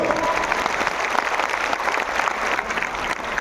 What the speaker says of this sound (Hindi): तो एक बार जोरदार तालियां होनी चाहिए, कम ऑन।